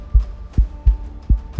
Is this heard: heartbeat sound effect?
yes